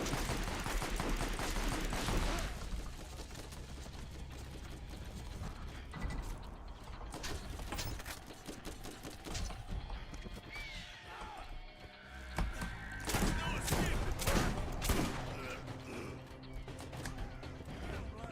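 Shotgun blasts and clattering mechanical weapon noises from the video game Borderlands, dense layered gunfire and clanks in a busy mix, with a voice talking over parts of it.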